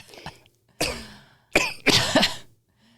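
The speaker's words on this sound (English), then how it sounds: "Then she starts a fit of laughter, which moves to a fit of coughing." Several harsh, bursty coughs close up, coming in a broken cluster with short gaps, the last ones loudest and rasping.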